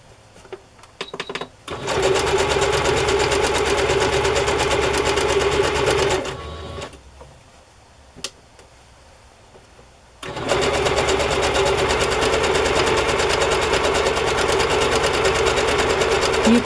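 A sewing machine runs a zigzag stitch across fabric and cotton batting in long, steady buzzing bursts. It stops for a few seconds partway through and then starts again, loud and close, with no voices.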